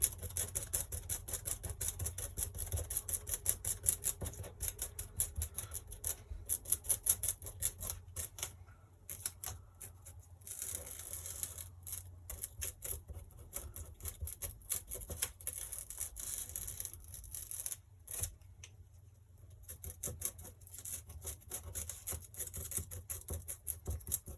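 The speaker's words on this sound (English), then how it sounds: "you can hear the foam is making a lot of noise as I'm carving it" Continuous crunchy scraping and squeaking as a carving tool cuts through a soft foam printing block, steady and close, with brief pauses.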